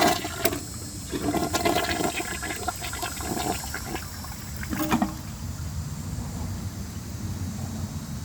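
A 2022 Mansfield Summit toilet with a 10-inch rough-in flushes nine Whataburger napkins: a rush of water with sharp clicks and gurgles early on, settling into a steady trickling refill, no talking.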